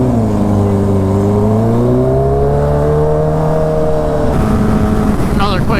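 A stretched Kawasaki Ninja H2 motorcycle revs loudly up close, its engine note climbing and holding in steady sweeps before dropping into a rougher, rattling idle near the end.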